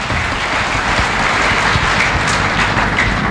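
Audience applause at a Success Day business gathering, a steady, dense wash of many hands clapping throughout, close and loud with no talk over it.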